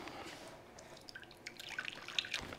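Consommé poured from a cut corner of a sous vide bag, a faint thin trickle with light drips and splashes that grow slightly louder toward the end.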